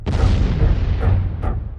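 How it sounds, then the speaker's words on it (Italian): A train bomb explosion sound effect, the blast inside a rail tunnel heard as a loud, deep, rumbling boom that rolls on for nearly two seconds, with no voices. "il treno viene dilaniato da una fortissima esplosione"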